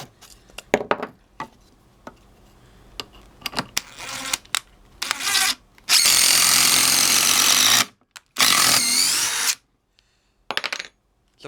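A Dewalt impact driver on a 5Ah battery runs in two loud, sustained bursts of about two seconds each, preceded by scattered clicks and short taps of handling and tool noise.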